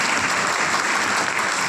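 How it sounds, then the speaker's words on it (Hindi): A seminar audience claps loudly and steadily, a dense, even wash of applause that holds for the whole stretch without a break. "चाहेंगे हमारे ग्रेट गुरु तनवीर अजीज सर के लिए एक बार जोरदार ताली हो जाए"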